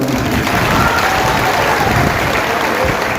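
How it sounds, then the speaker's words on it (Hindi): An audience at a political speech in a banquet lawn applauds, dense steady clapping from many hands filling the whole stretch at close range. "तालियां बजाकर"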